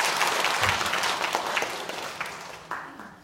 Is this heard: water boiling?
no